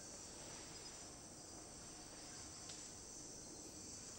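Cicadas in a French Guiana tropical forest drone in a steady, high buzzing chorus like a circular saw, with a faint, hushed forest background; the shrill hum holds evenly throughout.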